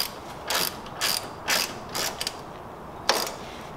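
A hand wrench ratchets as it tightens the bolts of a Tanabe strut bar on a 2017 Honda Civic Si, with five short bursts of close, crisp clicking separated by brief pauses.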